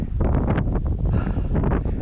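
Strong wind buffets the microphone in gusty, rumbling bursts, loud and close throughout, on a foggy, rainy, cold overlook during a Nor'easter on the New England Trail.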